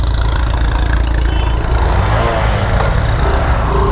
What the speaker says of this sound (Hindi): ये कैसा एग्जॉस्ट है इसमें, तो ट्रैक्टर जैसी वो आ रही है आवाज।